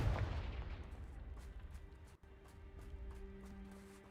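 A Confringo blasting spell going off in the Hogwarts Legacy video game, a sharp explosive burst at the start that decays into a rumbling, crackling tail with a sustained hum, heard alone without talk.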